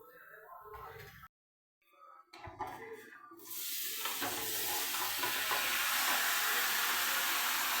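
Shallots and garlic fry in a pan, a loud steady sizzle building after a few quiet stirring scrapes and a brief pause, then hissing continuously to the end.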